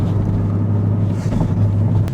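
A VW Passat on the move with a worn wheel bearing and a noisy exhaust, giving a steady low droning rumble with a constant hum throughout and no talk.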